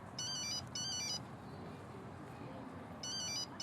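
A telephone ringtone chimes in two quick electronic bursts, pauses, then rings again near the end, fairly faint against a quiet indoor room in a French television drama scene.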